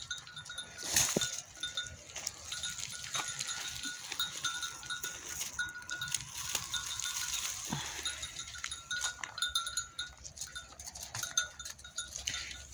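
Sheep bleating and the clink of their bells in an outdoor pasture, scattered calls and jangling over steady background noise.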